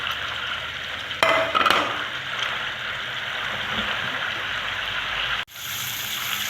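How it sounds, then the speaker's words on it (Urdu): Green chillies dropped into hot desi ghee for a tadka, giving a steady close sizzle and frying hiss with a few stirring clatters early on, then a brief cut before the frying continues. "اس میں میں ڈال رہا ہوں ہری مرچیں"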